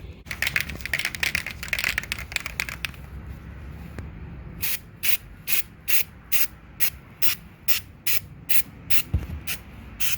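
A spray can of primer and paint is applied to a wooden cradle board. Dense scraping and rattling come first, then a series of evenly spaced short bursts of aerosol hiss, close and loud.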